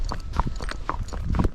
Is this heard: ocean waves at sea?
no